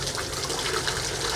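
Water runs steadily from a hotel bathroom sink tap in Tokyo, a constant close hiss and splash that holds even throughout the short stretch with no voices.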